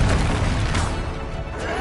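Bombarda blasting spell going off in Hogwarts Legacy, a loud crashing boom with dense noisy impact, part of a continuous stretch of spell combat.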